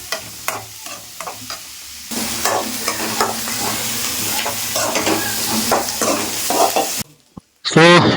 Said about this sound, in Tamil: வெங்காயம் லைட்டாக கொஞ்சம் ஃப்ரை ஆகிடுச்சுங்க